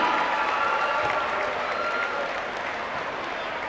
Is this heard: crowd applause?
yes